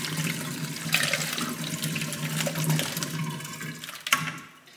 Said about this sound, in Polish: Teraz wleję już ten zaczyn